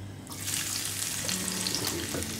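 Garlic sizzles and fries in a hot pan over medium heat for tarka dhal, a steady close crackling hiss that starts after a brief quiet moment, with no voices.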